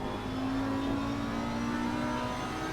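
A race car's engine holds a steady high whine under moderate throttle in the Assetto Corsa Competizione racing game, a continuous tone with faint tyre and road noise and no talking.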